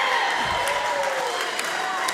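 At a pro wrestling match, a crowd cheers and claps in the background while a commentator keeps talking over it, with steady moderate applause throughout.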